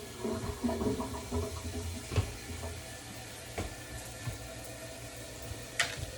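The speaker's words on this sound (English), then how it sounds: "Let's pour cold water in there." Cold water running from a kitchen tap into a container while pies and sweet potato cornbread are prepared, a steady, moderately close flow with a few clinks and bumps and no talk.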